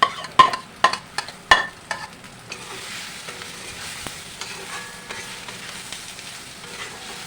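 Potatoes and Gobindobhog rice are tipped into a pan of fried spices: several sharp knocks of a spoon against the pan at first, then a steady loud sizzle of frying with occasional scrapes of stirring, no voices.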